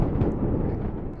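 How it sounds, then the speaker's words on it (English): Thunder rumbles through a horror video game, a loud, continuous low roll that fills the short moment alone without any voices over it. "Thunder."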